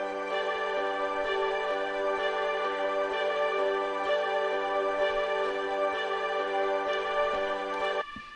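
A dreamy, sustained ambient reverb pad forms the break of a progressive house track, a dense steady wash of held tones that shifts chords gently and drops away near the end, with no voices.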